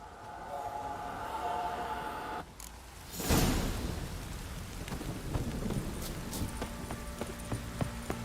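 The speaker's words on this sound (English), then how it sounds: "This downpour's a bastard, it is." Heavy rain pours down in The Witcher 3, a dense steady hiss, broken by a loud thunder crack about a third of the way through that rumbles away under the continuing downpour.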